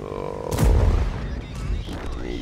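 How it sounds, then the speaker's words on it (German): A tank cannon fires a high-explosive shell in the online game World of Tanks, giving one heavy booming report with a deep rumbling tail, heard over the game's background engine hum. "Der hat mit HE geschossen."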